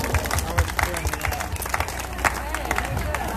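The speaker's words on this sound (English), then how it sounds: "Rick, give yourselves a round of applause." A Greek dancing class at a festival applauds itself, a loose, uneven round of clapping mixed with crowd chatter and shuffling feet, fairly close.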